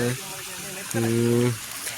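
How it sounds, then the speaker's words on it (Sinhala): A stream of water flows downhill beside a pond in a rural village, a steady rushing wash running the whole time while a voice talks over it in two bursts. "මෙතන වතුර පාරක් ගලාගෙන යනවා පහළ පැත්තට"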